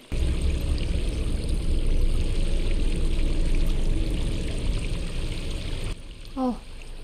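Running water in the video game Stray makes a steady, loud rushing and pouring wash that continues for several seconds, then drops away, leaving a brief tonal game sound.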